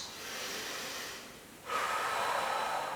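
Someone holds a high crescent lunge in a yoga flow, breathing audibly: a long soft airy breath, a brief lull, then a sharper, louder exhale or sniff close to the microphone, with no talking.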